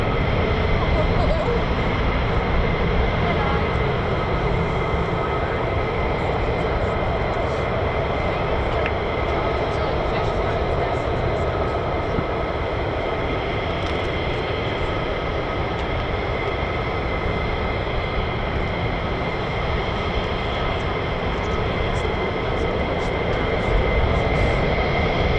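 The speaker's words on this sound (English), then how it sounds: "More F-35s spooling." Military F-35 fighter jets spool up their engines at RAF Lakenheath, home of the 48th Fighter Wing, giving a steady, broad roar that holds at an even loudness for the whole stretch, distant and unbroken.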